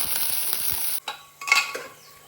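Mustard seeds, dried chilli, onion, garlic and ginger frying in hot oil, with a steady crackling sizzle and a few stirring clinks, then quieter bursts of spitting as the pan settles.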